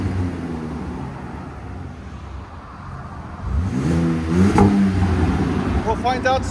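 A 2025 RAM RHO with a 3.0L twin turbo inline-six and a Magnaflow SPEQ cat-back exhaust idles with a low rumble, then revs up with rising engine tone as people talk nearby.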